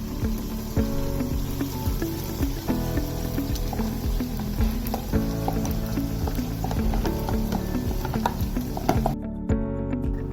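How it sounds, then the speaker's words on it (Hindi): Ground spinach goes into a pot of mutton for palak gosht, with steady sizzling and stirring sounds running close and continuous, ending abruptly near the close. "अब यहाँ पे जी हम ऐड करेंगे इसमें पालक जो हमने ग्राइंड की थी। तो सारी पालक इसमें शामिल कर देंगे।"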